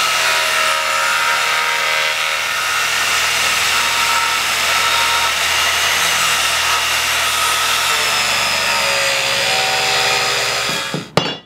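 Power saw cutting steadily through a wood section for heavy-duty car ramps, a loud continuous buzzing whine that holds for about ten seconds before winding down abruptly at the end.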